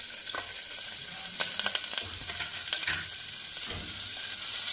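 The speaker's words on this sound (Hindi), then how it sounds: "इसको धीरे धीरे चलाऊंगी।" Chopped garlic and green chili with asafoetida sizzle and fry in hot oil for chana dal paratha filling, with steady crackling hiss and a few soft stirring scrapes, close and continuous with no talk.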